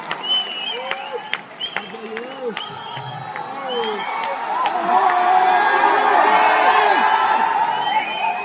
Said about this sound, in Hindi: जोरदार तालियां इस शानदार सेशन के लिए।